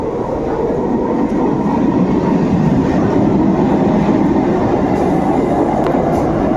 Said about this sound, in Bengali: স্টেশনে দাঁড়িয়ে আছি, ট্রেন এসে গেছে, আমাদের লোকাল ট্রেন